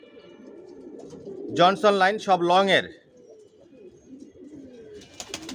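Adult stock racing pigeons let out a close, loud burst of throaty cooing for about a second, with someone talking before and after it.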